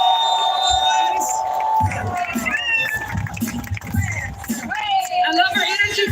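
A Juneteenth reparations rally crowd in Washington, D.C. cheers and yells in overlapping bursts, with voices rising and falling close by and a few louder shouts standing out.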